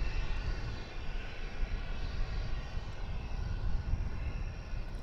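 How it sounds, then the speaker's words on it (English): A passenger airliner arriving on the east side of DFW Airport, heard as a steady, broad engine roar at moderate distance that holds its level throughout, with no talk over it. "that plane, of course, coming in on the east side of the airport"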